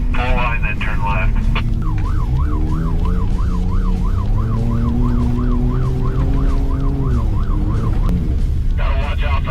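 A police siren wails loudly and close, shifting from a fast yelp to a rapid oscillating warble and back, caught on the dash cam of a supercharged 450 hp ZR2 over the hum of the running truck.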